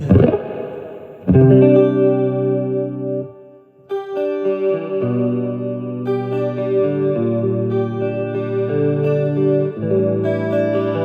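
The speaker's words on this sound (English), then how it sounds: "Let me add as much chorus as we have and as much reverb" An electric guitar rings out in sustained, shimmering chords drenched in chorus and reverb, with a brief dip before the chords swell back in.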